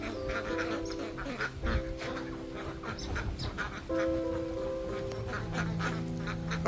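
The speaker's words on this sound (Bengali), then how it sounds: "হাঁসগুলো অ্যাকচুয়ালি এইদিকে যাবে" Ducks quack near a lotus pond, a busy overlapping chorus of nasal calls that carries on steadily throughout and sounds fairly close.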